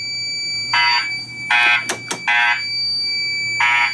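A fire alarm system sounds during a test of a new installation, loud repeating electronic beeps in evenly spaced bursts with a few sharp clicks between them, close and clear with no talk.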